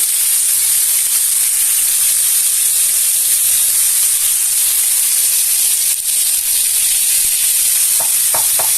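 Beef cheeks searing in a hot pan, a loud, steady sizzle and hiss running throughout with a few brief crackles near the end and no talking.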